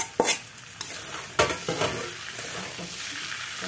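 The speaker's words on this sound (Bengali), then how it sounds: "ভেজে রাখা পনিরগুলো দিয়ে দিচ্ছি।" Fried paneer being stirred into a hot pan, several loud scraping strokes of the spoon over a continuous close sizzle of frying, with no voices.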